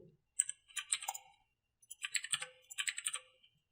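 Password being typed on a computer keyboard, three quick bursts of close, crisp key clicks separated by short pauses, with no talking.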